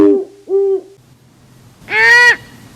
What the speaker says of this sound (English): That's two owls talking back and forth.